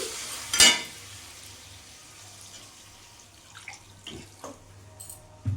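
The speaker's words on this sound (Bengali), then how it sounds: "এবার জল দিয়ে দেবো আমি" Water is poured into a simmering pot of katla fish curry with potatoes, a short splashy gush followed by quieter bubbling and the clink of a spoon stirring, with no voices.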